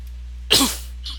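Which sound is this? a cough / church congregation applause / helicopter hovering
a cough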